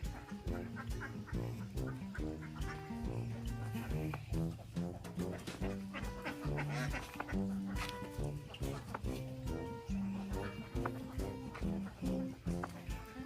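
Ducks rest outdoors on a farm after a storm, giving faint, repeated quacking calls in uneven bursts throughout.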